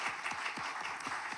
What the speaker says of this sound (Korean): 우리 박수로 한번 축하해 볼까요?